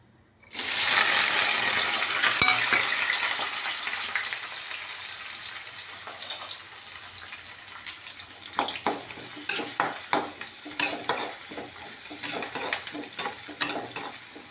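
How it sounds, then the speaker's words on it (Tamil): Onions hit hot oil in a pan with a loud burst of sizzling that slowly eases, followed by a run of rhythmic scraping stirs against the pan, close and without voices. "நல்லா அந்த வெங்காயத்தை வதக்குங்க. இது நல்லா வதங்கி வரட்டும்."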